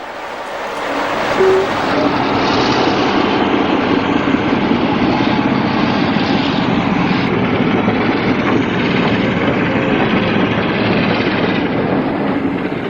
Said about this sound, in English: 46038 calls in with the 1040 parcels from King's Cross Goods to